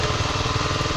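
Kawasaki KLX 250 dual-sport motorcycle engine with water in it, running close and loud with a steady, slightly lumpy pulsing idle.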